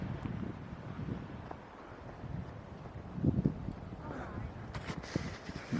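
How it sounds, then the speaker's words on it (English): Wind buffets the microphone outdoors near Estes Park, Colorado, with low rumbling gusts that swell and ease across the clip while a person talks. "the wind's kind of whipped it up again"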